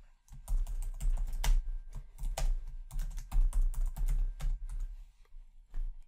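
Keys clatter on a computer keyboard in irregular bursts of close, crisp clicks while a new test case title is typed into desktop testing software, with brief pauses between runs of keystrokes.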